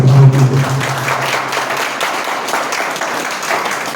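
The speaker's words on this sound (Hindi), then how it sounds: "जोरदार ताली बजाइए।" A church congregation claps loudly after a sermon on faith following baptism, the dense applause beginning under a brief voice and then carrying on alone as a sustained wash of hand claps.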